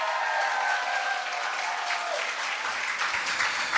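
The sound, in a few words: church congregation applause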